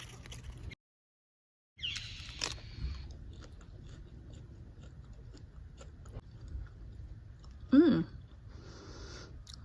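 Crunchy bites into a firm New Red Fire lettuce leaf, a heat-tolerant variety just starting to bolt, with soft repeated chewing close up and a louder crisp burst near the end.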